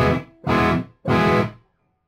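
Electric guitar played through an Axe-FX III using only full-resolution cabinet IRs, heard as three loud, sustained distorted chords of roughly half a second each, separated by short gaps, with a brief decay after the last.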